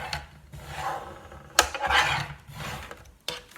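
Close, soft rubbing strokes come from burnishing the fold of a scored greeting card, in a few short passes with brief pauses between them.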